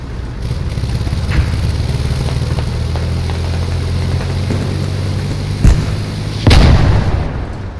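Explosive charges detonating in the Squad military shooter game, two heavy booms late in the clip over a constant loud engine-like rumble, with no talk.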